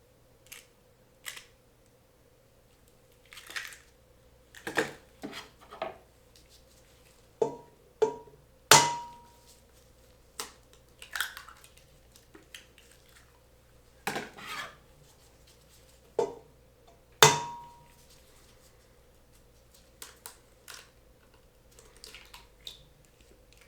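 Eggs, four in total, cracked into a stand mixer bowl for grass-fed meatballs; sharp, quiet cracks and taps come in scattered bursts with pauses between them, and no one speaks.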